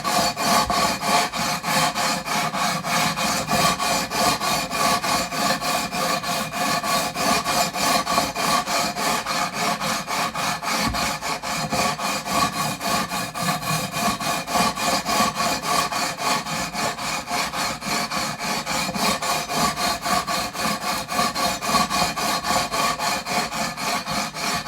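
An abrasive leveling beam rubs along the frets of a Gibson Les Paul Studio guitar in long, even strokes, a continuous close rasping scrape with no speech.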